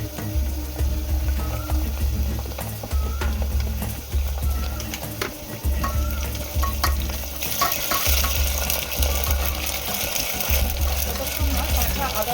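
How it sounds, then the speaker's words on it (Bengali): Ginger garlic paste fries in hot oil with a steady close sizzle and crackle, while a low pulsing hum from a stove or fan runs underneath in regular bursts throughout. "আদা রসুনের পেস্টের গন্ধটাকে ততক্ষণ সুন্দর করে কিন্তু ভেজে নিতে হবে।"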